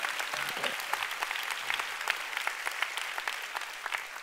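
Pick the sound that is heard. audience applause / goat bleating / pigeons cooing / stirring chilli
audience applause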